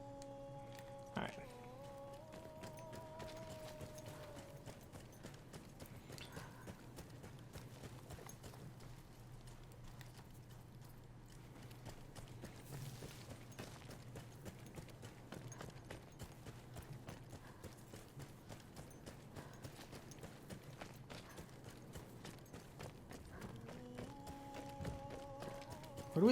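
Horse hooves clip-clopping at a run in Battlefield 1, a quiet, rapid, steady rhythm that goes on at length under low game ambience, with brief tonal sounds near the start and end.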